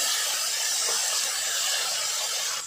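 Capsicum with salt and crushed chilli sizzles in a hot pan as it sautés, a steady close broadband hiss holding evenly throughout with no speech.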